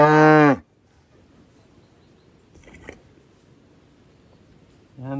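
A newborn calf on a farm moos loudly twice, one long low bellow at the start and a shorter one at the end, with quiet rustling between.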